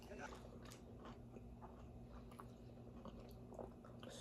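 Someone chewing homemade pizza noisily, soft wet bites and crunches close to the microphone, mixed with faint conversation in the background.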